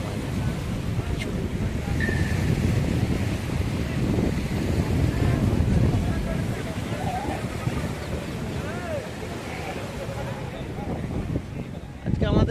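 A boat ride on Maithon reservoir brings a constant roar of wind buffeting the microphone over rushing water, with faint voices now and then beneath the steady noise.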